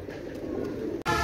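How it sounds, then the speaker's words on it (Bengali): A pair of running Kamakar pigeons, a Pakistani fancy breed, give a short, close, low cooing murmur over a steady background, ending with an abrupt cut. "একজোড়া রানিং কামাকার কবুতর"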